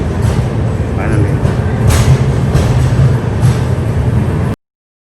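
Godavari Express first-class train pulling into Visakhapatnam station after the run from Hyderabad: steady low rumble and rattling of the carriage with a few brighter clanks, nearby and continuous, cutting off abruptly near the end.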